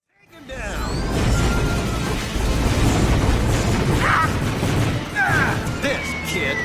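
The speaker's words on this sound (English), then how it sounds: "he'll throw bombs at you, which you can shoot to avoid taking damage" Bombs from a boss in the Robots video game burst in a dense, roaring string of explosions that fills the whole stretch, loud and continuous with crackling pops and whooshes layered on top.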